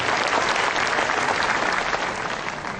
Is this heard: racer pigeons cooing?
no